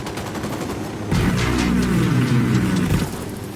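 Gunfire in the video game Ghost Recon Wildlands: a loud, sustained burst of shooting starts about a second in and rolls on for roughly two seconds over steady background noise, with no talking.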